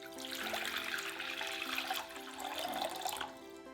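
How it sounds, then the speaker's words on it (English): Two cups of water pour into a pot, a soft, continuous splashing trickle that runs steadily for several seconds at low volume. "Let's pour 2 cups of water into a pot."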